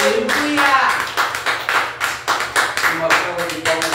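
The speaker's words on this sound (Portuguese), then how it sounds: "Palmas para Jesus." A church congregation claps for Jesus during a worship service, a brisk rhythmic run of hand claps with distinct beats, and voices sounding through the clapping.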